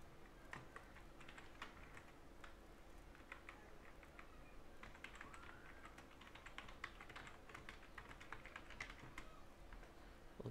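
Steady typing on a computer keyboard in Google Docs, a long run of quiet, quick, irregular clicks heard alone against faint background noise.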